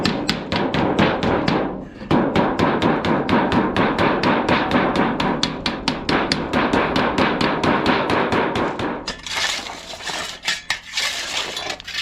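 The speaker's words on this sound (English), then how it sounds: "And just give it a little tap with the hammer and then it'll be good." Rapid, loud metallic hammer taps on two pieces of angle iron being straightened outdoors on a homestead, a steady stream of ringing strikes with a brief pause, then more uneven clinks.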